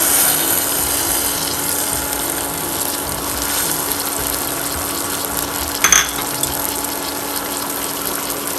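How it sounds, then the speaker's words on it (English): Tamarind water pouring into a simmering fish curry of branzino, a steady close liquid gush and trickle under a faint background hum, with one brief clatter near the end and no talk. "You can put the tamarind water."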